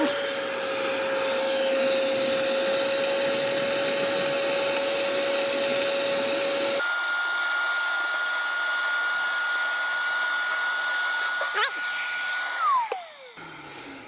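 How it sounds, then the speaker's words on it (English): Ash vacuum sucking wood stove ashes and charcoal from a stove, a loud steady whine that jumps to a higher pitch midway, with rattling debris, then winds down at the end. "So I'm just gonna go ahead and vacuum it up."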